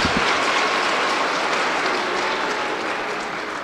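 A church congregation at a confirmation Mass claps in sustained applause that starts loud and slowly fades over a few seconds.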